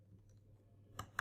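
A computer keyboard being typed on gives two sharp, close key clicks near the end, following a quiet stretch with faint background hum.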